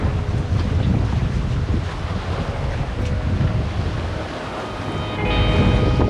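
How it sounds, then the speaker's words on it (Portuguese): Steady wind rushes and buffets the microphone aboard a sailboat, with water sloshing beneath; a constant, loud roar with no voices. "Chegou o vento!"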